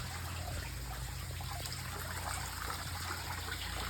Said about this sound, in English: This is what the waterfall looks like now.